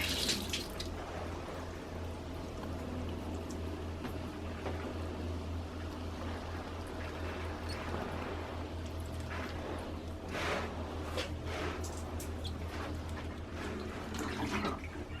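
Water pours and splashes steadily into pots while potted pepper plants are watered in a greenhouse, a soft continuous trickle heard fairly close.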